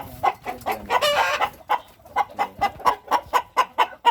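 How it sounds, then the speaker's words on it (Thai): Seven-month-old fighting chickens clucking up close, a brief burst of overlapping calls early on, then a steady series of loud, evenly spaced clucks. "มีไก่เจ็ดเดือน"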